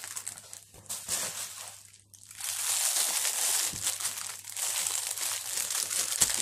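Close, steady crinkling and rustling of packaging from a parcel holding a plasma pen, continuous crackle with a brief pause near the start, moderately loud and without speech.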